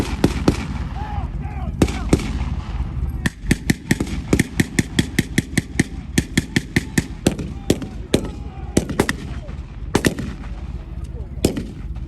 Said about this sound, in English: Second, third fire team are laying down suppressive fire.